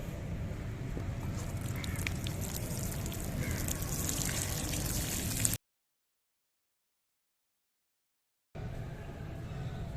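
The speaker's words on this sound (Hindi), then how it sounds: "तो आपने पानी बिल्कुल लाइट शावर से देना है" Water sprinkled as a light shower onto soil over freshly sown garlic, a steady soft hiss and trickle lasting several seconds, broken by a stretch of silence before the spray resumes.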